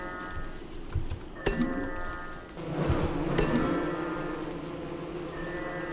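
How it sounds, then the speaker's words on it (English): Bees buzzing in a video game, a steady insect drone with scattered clinks and brief tonal chimes layered over game music; no talking. "We make the clockworks fight the bees."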